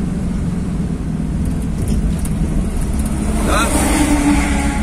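Huge trucks pass on the road beside a stopped vehicle, a loud continuous roar and rush of wind with a swell near the end, while someone speaks over it.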